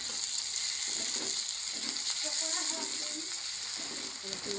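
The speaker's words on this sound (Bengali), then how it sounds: "রসুন বাটাটা ভালো করে নাড়িয়ে নিতে হবে, মানে গন্ধ করবে।" Garlic paste and onions fry in a kadai with a dense, steady sizzle and occasional stirring scrapes, close and even throughout, no voices.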